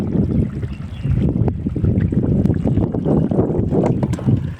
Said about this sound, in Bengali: বাবা কি হাওয়া ছাড়ছে।